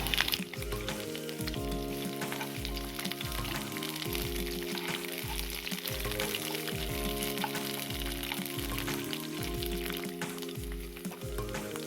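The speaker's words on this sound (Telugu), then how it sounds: "ఆయిల్ వేడయ్యాక ఈ పచ్చిమిర్చి ఆనియన్ వేసేస్తున్నాను. కొంచెం ఫ్రై చేసుకుందాం." Green chilies and onion fry in hot oil in a home kitchen for a gongura chutney, giving a steady, close, continuous sizzle with crackling throughout and no talk.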